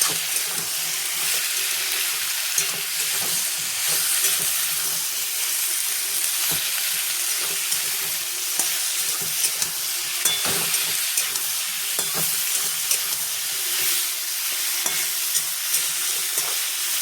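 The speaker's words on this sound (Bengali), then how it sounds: "এবার এটাকে ভালো করে নাড়বো" Curry seasoned with salt and turmeric being stirred as it cooks in a pan, a continuous loud sizzle with repeated soft knocks and scrapes of the spoon throughout, and no voices.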